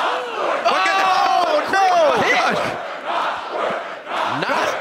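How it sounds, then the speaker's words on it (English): Esports arena crowd at a League of Legends URF mode grand final, a loud mass of voices chanting and shouting together in swelling, overlapping waves that fill the whole stretch. "The crowd is chanting back."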